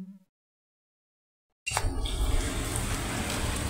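After a short tone and a moment of silence, a dense, steady downpour starts abruptly and keeps roaring without a break.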